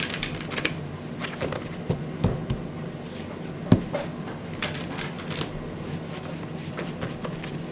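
Tarot cards handled and shuffled at close range, a run of soft papery riffles and slaps with a few sharper taps against a table, steady and fairly quiet with no voice.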